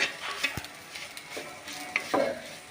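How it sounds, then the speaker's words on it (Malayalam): Curry leaves stirred and sautéing in a pan for a chilli fish curry with sardines, giving soft frying sizzle with a few sharp spatula scrapes and clicks, close and fairly quiet, with no talking. "അതിലൊരു തുണ്ട് കറിവേപ്പില കൂടി ഇട്ടു. ചെറുതായിട്ടൊന്നിങ്ങനെ വഴറ്റിയെടുക്കാം."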